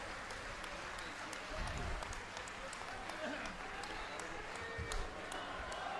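A crowd at a BJP political rally applauds to welcome the chief minister, a faint, continuous wash of clapping with a few louder swells, and speech carries through it.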